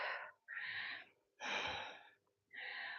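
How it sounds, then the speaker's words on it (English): Deep, forceful breaths during a shoulder workout, four strong rasping inhales and exhales in a steady rhythm with short pauses between, close and clear. "Deep breaths."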